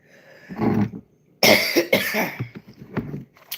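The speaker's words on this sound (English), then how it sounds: "That's a good cough." Several harsh, close coughs in quick bursts, with short pauses between them, loud and dry.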